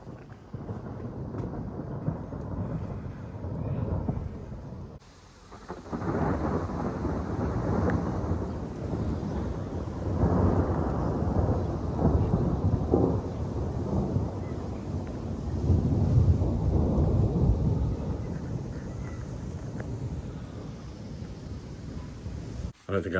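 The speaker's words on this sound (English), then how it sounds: "the thunder's really going for it now" Heavy thunder rumbles continuously through a rainstorm, loud and deep, with rain and wind noise throughout and a brief lull early on.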